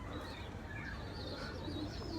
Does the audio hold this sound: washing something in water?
no